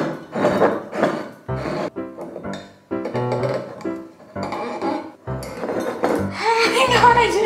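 A metal wine corkscrew clinks and scrapes against a wine bottle, giving irregular clattering handling noises at close range, with talking mixed in.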